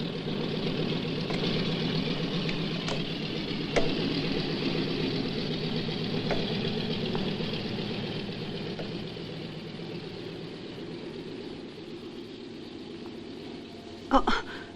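Boat engines running at minimum power while cruising, a steady low droning hum with faint clicks, a brief louder knock near the end.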